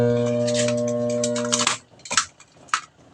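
A washing machine motor with a fault that makes it only hum gives a steady electric hum with strong low harmonics for a second and a half, then cuts out, leaving a few clicks and handling noises.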